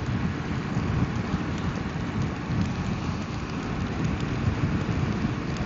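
Heavy rain and thunder during a motorcycle tour toward the Austrian border, heard as steady, dense broadband rushing and low rumble that stays continuous and loud throughout with no voices.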